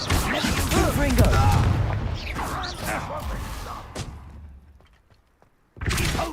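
A Confringo spell blast bursts in Hogwarts Legacy combat, with a heavy booming impact and rumbling crash under a player's speech. The noise then fades to near silence before a short, sharp burst at the end.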